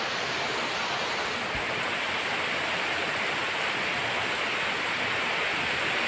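Heavy rain pours down in a dense, unbroken hiss that stays loud and even from start to finish, with no voices.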